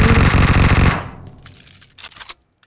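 Gunfire in the PUBG Mobile video game on the Livik map, with a loud rapid automatic burst lasting about a second, then a few scattered softer shots and clicks as it tails off.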